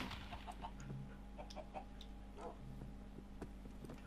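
In a Minecraft Hypixel arcade game, a chicken clucks in short, repeated bursts over a faint steady hum, fairly quiet, with no talk.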